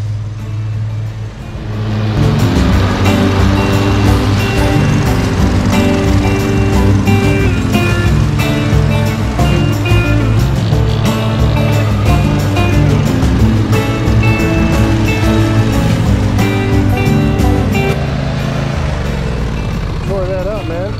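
A lawn mower chews through thick, overgrown tall grass, its engine a loud, steady drone that holds nearly unbroken for about twenty seconds after a quieter start, with no talk over it.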